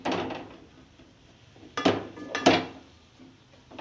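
A spoon scraping and knocking against a pan while cardamom powder is mixed into chana dal halwa roasting over low to medium heat; two sharp metallic clanks stand out amid quieter scraping.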